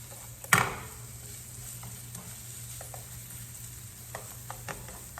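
Vegetables sauté in a pan with a steady, soft sizzle, broken by a sharp utensil clank near the start and a few light taps later on.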